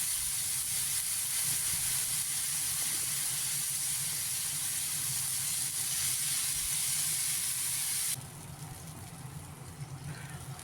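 Tomato puree hitting hot oil tempered with green chillies and nigella seeds, giving a loud, steady hiss of sizzling that runs unbroken, then drops to a quieter simmering crackle near the end.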